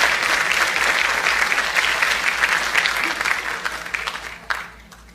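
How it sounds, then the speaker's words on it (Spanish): A full audience claps loudly to welcome a judge to the stage, a dense burst of hands that slowly thins and fades toward the end, with a few last scattered claps. "Recibamos con un fuerte aplauso a la jueza"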